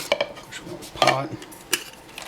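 Metal backpacking cook pot and lid being handled, with several light clanks and scrapes of metal knocking together at irregular intervals, close and moderately loud.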